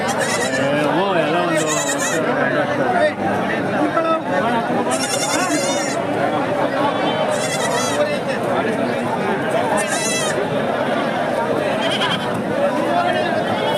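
Sheep and lambs bleat repeatedly, loud and close, amid a busy crowd of chattering voices at a livestock market.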